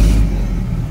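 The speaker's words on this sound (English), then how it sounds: "I just want to show you how amazing this cold start is" A 1936 Ford Deluxe engine on a cold start, a loud, steady low rumble of the idling motor filling the short moment without talk.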